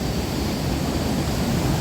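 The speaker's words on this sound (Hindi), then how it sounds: "ये देखो पानी का विराट रूप" A powerful mass of water rushes through an old heritage site, a loud, steady, close roar of broadband noise with no break and no talk.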